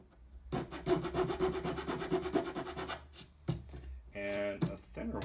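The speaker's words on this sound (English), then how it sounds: "So for this one, I'll use a smaller file." A small hand file rasps notches into a wooden jeweler's bench pin in quick, even back-and-forth strokes, close and fairly quiet, stopping briefly before a few more scraping strokes.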